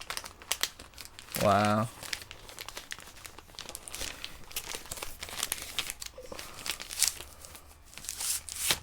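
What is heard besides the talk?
comic books in plastic bags being handled, crinkling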